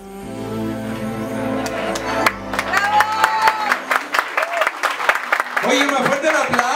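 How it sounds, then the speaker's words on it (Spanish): Scattered, uneven claps from a café-concert audience ring out as music fades away beneath them, with a voice talking over the sparse clapping. "más fuerte el aplauso"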